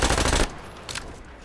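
A fast burst of automatic gunfire in Call of Duty: Black Ops Cold War, a team deathmatch on the Satellite map, rattles loud and close, then cuts off abruptly into quieter game ambience.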